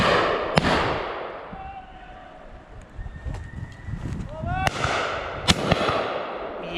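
Shotgun blasts at a flushed cock pheasant crack out loud and close, two or three sharp reports over steady wind noise, with chirping birds in the background.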